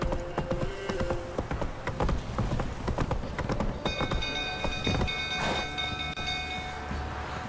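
Horse hooves clip-clop in The Witcher 3: Wild Hunt, a steady, fairly close rhythmic clatter of hoof beats that continues throughout, with some ringing tones layered over it.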